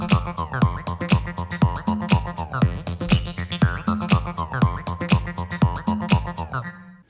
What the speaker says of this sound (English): Today I have a sound design tutorial to create an ARP that sounds something like this.